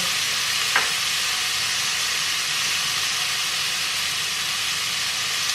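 A whole bag of broccoli sizzles in a very hot pan, a loud, steady frying hiss with a brief clatter near the start and no talking.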